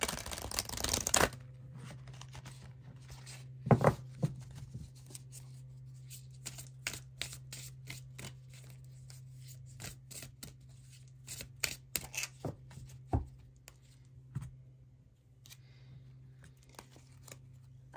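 Witching Hour Oracle cards being shuffled and drawn, a rush of riffling at the start followed by soft intermittent card slaps and flicks over a low steady hum.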